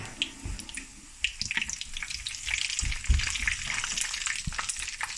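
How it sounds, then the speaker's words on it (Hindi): Cumin seeds crackle and sizzle in half a cup of hot oil for a dal tadka, a steady dense spitting fry with a few louder pops, close up and with no talking. "1 टेबलस्पून हम इसमें ज़ीरा जो है ना वो डालेंगे और इसको हम ब्राउन करेंगे इसमें"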